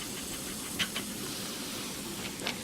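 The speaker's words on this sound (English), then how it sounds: "Looks like I've got a small leak on the water gauge. The gauge glass." A faint, steady hiss of steam escapes from a leaking water gauge glass on a model steam engine, with a couple of brief sharper spurts over the constant low background.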